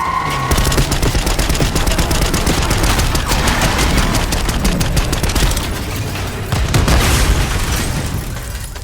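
Loud, sustained gunfire in the Call of Duty Black Ops 6 campaign, rapid automatic bursts and booming impacts filling the whole stretch, with no talk.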